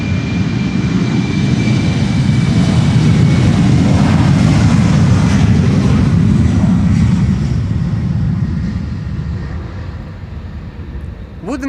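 A jet airliner taking off from Polderbaan runway 36L, a loud sustained roar that holds strong for several seconds before gradually fading away.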